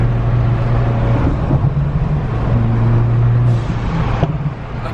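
A racing engine drones loudly, its pitch shifting up and down as the car speeds past close by, then fades slightly; no talking.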